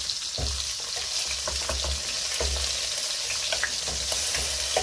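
Loud, steady sizzling of onion frying in a pan with shrimp and mussels, close up, with occasional soft stirring scrapes and pops and no talking.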